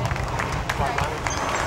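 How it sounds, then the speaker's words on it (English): Applause at a cattle show for the young exhibitors of a heavyweight steer class: a steady, dense patter of clapping from a crowd that fills the whole moment, with a little background chatter. "Let's give these young people a nice round of applause"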